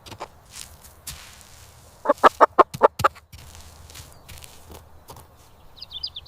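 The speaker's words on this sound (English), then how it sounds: "our certified organic chickens range freely across the pasture" Certified organic chickens range on a pasture, a quick close run of clucks in the middle of the clip among scattered soft taps and rustles.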